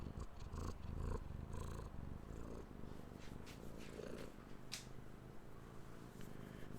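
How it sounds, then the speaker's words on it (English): A pet cat named Lily purrs steadily and loudly, close up, in a continuous low rumbling drone that runs throughout with some faint background noise. "Listen to how loud she purrs."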